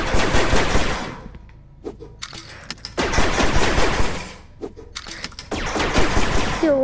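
Bursts of rapid automatic gunfire in the video game Rec Room, loud and near, arriving in three long volleys with a few sharp single shots between them.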